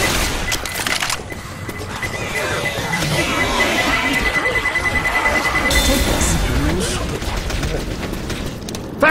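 Dense chaotic combat noise in the Left 4 Dead 2 zombie shooter, with booming blasts and continuous gunfire filling the whole stretch over shouting voices.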